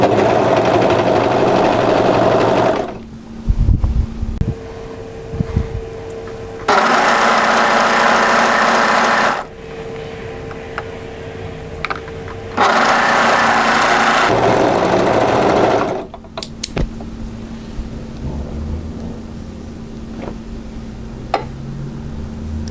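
An overlocker stitching the hem of a tee shirt, heard as loud, fast mechanical whirring in two long bursts of several seconds each, with quieter handling noises and pauses between them and no talking.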